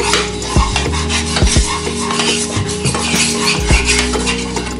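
A wooden spoon stirs and taps in a crepe pan with coconut oil, giving repeated close, hollow knocks and scraping strokes over a steady background hiss.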